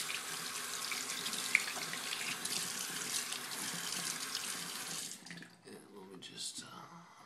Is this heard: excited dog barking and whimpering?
no